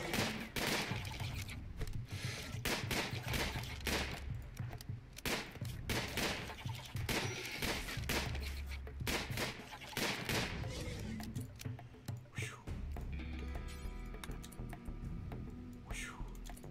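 Rapid bursts of gunfire in the RimWorld video game crack out in dense volleys and scattered single shots, loud and continuous across the stretch, with occasional speech underneath.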